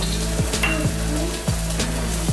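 Garlic, ginger, red onion and celery hit a hot pan with a dense, continuous sizzle, underlaid by a low steady hum and regular soft thumps roughly every half second.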